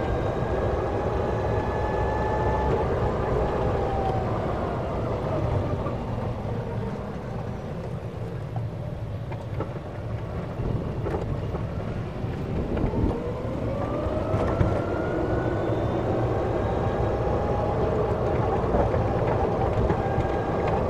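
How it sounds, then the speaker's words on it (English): A GEM electric golf car fitted with lithium batteries drives along, giving off a steady close hum whose pitch rises and falls smoothly as it speeds up and slows down for about twenty seconds, with no talk. "Hey, that's a pretty fast GEM electric car."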